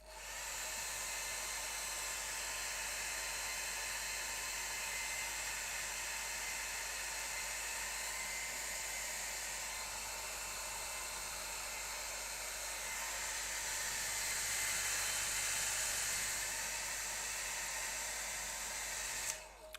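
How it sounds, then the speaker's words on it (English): A hair dryer, used to dry a watercolour painting, blows continuously: a steady airy whoosh with a high whine that holds unbroken for the whole stretch. "Hairdryer time."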